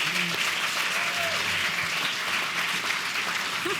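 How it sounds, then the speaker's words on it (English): A crowd claps in sustained, dense applause at an even level from start to finish, with a few faint voices mixed in, at a human rights award ceremony. "Please, can we give another round of applause to Murrawah?"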